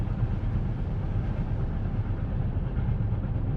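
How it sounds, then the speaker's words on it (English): A steam train rumbles steadily and deeply close by as it slows approaching a platform, with a continuous low mechanical drone and no voices. "The train slows as it approaches the platform."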